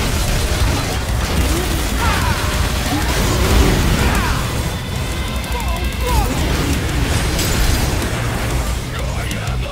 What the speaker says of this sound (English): huge battles filled with splashes, explosions and gunfire